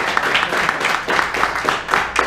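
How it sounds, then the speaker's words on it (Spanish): An audience at a real estate seminar in Playa del Carmen claps steadily and loudly, a dense, close round of applause with no break. "Un aplauso."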